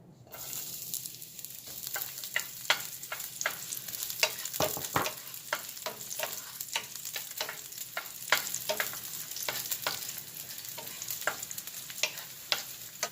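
Garlic sizzles in three tablespoons of hot oil in a pot, a close, steady crackling fry with frequent sharp pops and stirring scrapes throughout.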